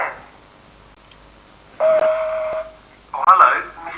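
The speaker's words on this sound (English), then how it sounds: "If you'd like to leave a message, please speak after the tone." A telephone answering machine in a comedy sketch gives a steady electronic beep lasting under a second, and a second burst of warbling tone follows soon after.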